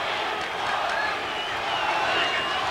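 Boxing crowd at a WBA lightweight title fight between Tony Lopez and Dingaan Thobela, a steady roar of cheering and shouting that swells slightly, filling the whole stretch.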